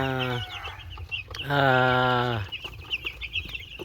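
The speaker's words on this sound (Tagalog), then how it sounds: "okay naman sila yung mga sisiw natin at malalakas na silang tumuka" Chickens calling close by where chicks are kept, with two long drawn-out clucking calls and softer chirps and clucks between them.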